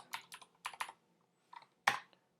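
Computer keyboard typing during web coding work, several quick clusters of crisp keystrokes close by with short pauses between bursts and a final firmer key press.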